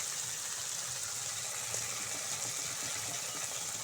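Water poured into a pot of potatoes being cooked into a fish curry, a steady, close, broadband rushing pour that runs without a break.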